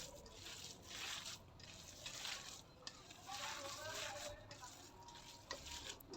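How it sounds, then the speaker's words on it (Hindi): Chapli kabab mixture with finely chopped tomatoes being mixed lightly by hand, giving soft, wet squelching and stirring noises that rise and fall at low level under quiet background noise. "तकरीबन हल्का सा मिक्स करेंगे।"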